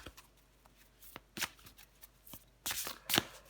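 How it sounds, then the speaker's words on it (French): Tarot cards are handled and drawn at close range in quiet surroundings, with soft slides and flicks and a few sharper card snaps. "Je prends encore une carte pour vous."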